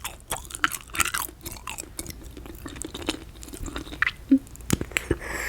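Gum chewing up close, with soft wet squishes and smacks in an irregular rhythm and a few sharper clicks, quiet and intimate, with no speech.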